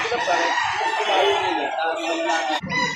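A Lemon Sweater rooster, about 11 months old, crows at a poultry sale in Lipa City, Batangas, its long call overlapping other birds and loud market chatter, with a brief drop near the end.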